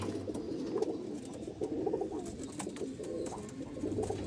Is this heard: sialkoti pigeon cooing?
yes